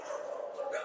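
Dogs in the kennels of the Harlan County animal shelter give a short, close burst of whining barks, heard along with a voice.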